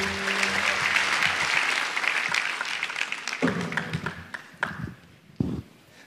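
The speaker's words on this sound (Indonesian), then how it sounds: "Tepuk tangan dong buat kalian." An audience at a stand-up comedy show claps and cheers in a sustained burst of applause that thins out into scattered claps toward the end.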